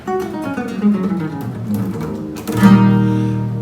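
A guitar picks out single notes one after another in a short melodic run, ending on a sustained ringing note, played close and alone.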